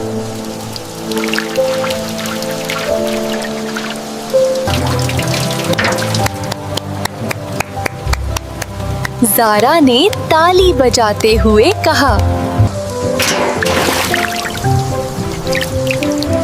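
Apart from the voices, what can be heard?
rain dripping into a steel bucket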